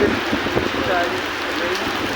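Steady rain falling in Dhaka, Bangladesh, a dense, constant patter and hiss on surfaces nearby with no pauses.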